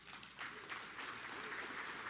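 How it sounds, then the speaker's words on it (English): Audience at a Defense POW/MIA Accounting Agency remembrance event claps steadily in a fairly quiet, distant burst of applause lasting a couple of seconds. "And that applause goes to the DPAA team."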